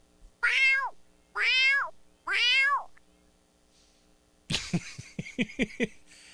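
A black cat gives three close, drawn-out meows in a row, then after a pause makes a burst of short, choppy coughing or chattering sounds.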